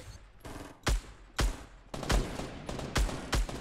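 Gunfire in the Fortnite video game during a 50v50 match: a run of sharp, loud shots in irregular bursts, some close and punchy, others in quick flurries, with no talk over them.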